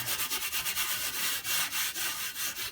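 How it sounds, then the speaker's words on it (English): Steel wool scrubbing a metal toolbox, rapid rhythmic scratchy strokes repeating close up and fairly loud, with no other sounds. "Go over it with the steel wool."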